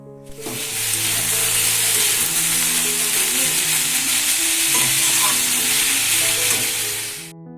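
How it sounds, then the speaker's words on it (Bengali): Flat beans and potatoes sizzle and crackle steadily in a hot pan, with stirring scrapes throughout; loud and close, no talking. "আজকেও শিম আলু ভাজাই করে নিচ্ছি"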